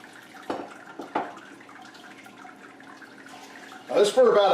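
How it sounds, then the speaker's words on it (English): Water poured into a brewing kettle during sparging for a 5-gallon beer batch, a soft trickle under a couple of short knocks, ending in a louder splashing burst near the end. "So let's go ahead and continue to add some water here."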